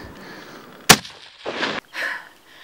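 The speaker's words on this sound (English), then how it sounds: "I just shot a bear about 150 yards down in this canyon" A single loud rifle gunshot fired at a bear in a spring hunting canyon in Oregon, a sharp crack followed by echoing rumble, then faint rustling and movement outdoors.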